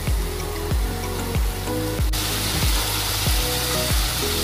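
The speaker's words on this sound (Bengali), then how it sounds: "এবার মশলাটাকে আমরা ভালো করে কষিয়ে নেব।" Spice paste for bhetki fish curry fries in a pan with a steady, loud sizzle, broken by a recurring low clatter as the masala is worked, and the hiss swells noticeably partway through.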